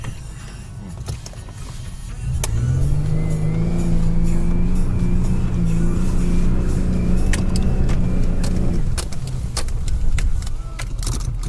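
An off-road car stuck on a rough track revs its engine, the steady rising hum holding for several seconds before dropping off, with scattered knocks and jangles around it.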